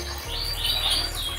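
A canary singing in a rapid, high chirping trill with fluttering warbles, close and fairly loud over a low steady hum, without talk.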